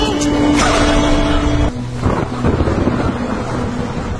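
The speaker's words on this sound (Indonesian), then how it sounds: "malam hujan geledek yang kembali turun" Night thunderstorm with heavy rain, a loud rolling thunder crack over a steady hiss of downpour that keeps rumbling on.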